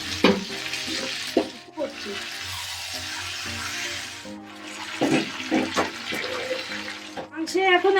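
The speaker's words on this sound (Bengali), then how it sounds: "এবার মাংসগুলি ছেড়ে দিচ্ছি তেলের মধ্যে, ছেড়ে দেব। রসুন ভেজে তেলের মধ্যে ছেড়ে দিলাম।" Meat being added to hot oil with fried garlic for a Bengali garlic mutton curry, giving a broad steady sizzle with bursts of stirring and clatter, close and fairly loud, pausing briefly near the start and middle.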